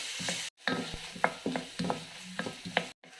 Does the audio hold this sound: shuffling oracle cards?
no